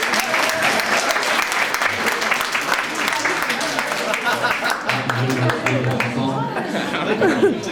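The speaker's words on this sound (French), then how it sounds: "je vais t'applaudir et t'encourager" An audience claps and cheers during a boxing session, a dense, loud wash of applause with scattered chuckles and chatter mixed in, lasting the whole stretch.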